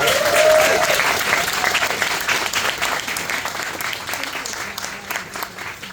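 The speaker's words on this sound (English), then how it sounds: "Let's give them a round of applause." Sustained audience applause at an outdoor community dedication event in Howell, New Jersey, loud at first and gradually tapering, with crowd noise throughout.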